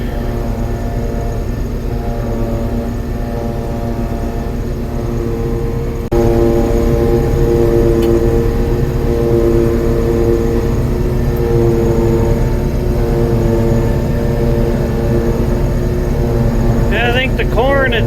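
A forage harvester's engine drones steadily from inside its enclosed cab while chopping hay and sorghum, a constant low rumble with tonal whine that grows slightly louder partway through.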